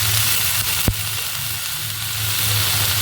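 Washed potatoes sizzle in spiced masala in a wok, a broad steady frying hiss with a single sharp clack near the start.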